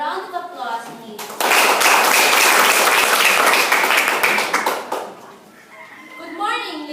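Dense round of applause from a school audience at a Grade 9 debate, loud and steady for several seconds between stretches of children's voices before and after.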